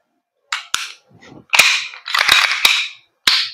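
Several sharp, snappy shots from a KJ Works KP-05 airsoft gas blowback pistol crack close by, each followed by a brief mechanical clack, spaced irregularly over a few seconds.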